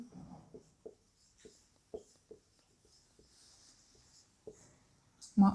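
A pen scratches across paper or a board in short, separate strokes and taps, close and faint, with brief silent gaps between the marks.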